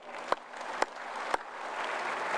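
A few sharp, separate claps ring out, then quieter, spread-out group clapping builds from an audience at a yoga and Ayurveda talk.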